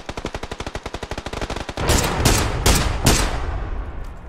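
Fast, rhythmic automatic gunfire from a shooting video game, a steady burst of rapid shots followed by several heavier, louder blasts that ring out and fade, with no talking.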